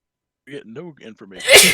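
A sharp, loud sneeze bursts out at the end of a stretch of speech during a gaming session, breathy and abrupt after a voice has been talking.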